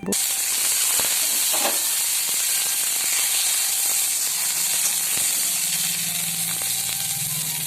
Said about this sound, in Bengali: তেল দিয়ে দেবার পর এবার ডিমগুলো হালকা করে ভেজে নেব।